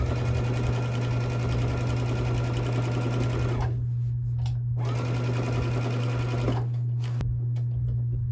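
A sewing machine stitches binding onto a quilt in two long steady runs with a pause between them and a brief final burst, a constant low motor hum underneath, close and fairly loud with no talking.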